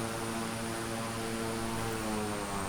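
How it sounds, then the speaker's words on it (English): A propeller plane engine in Microsoft Flight Simulator 2020 drones with a steady, even hum that holds level throughout. "the propellers actually slow down and stop spinning"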